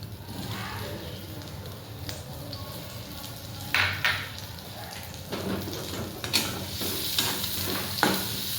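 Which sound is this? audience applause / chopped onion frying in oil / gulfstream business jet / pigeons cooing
chopped onion frying in oil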